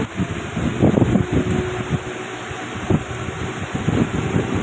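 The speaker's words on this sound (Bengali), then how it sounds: "এলো পাতারি হাওয়া চলছে" Strong gusty wind blows during a heavy rainstorm, roaring and buffeting the microphone in uneven surges over a constant hiss of rain, with no speech.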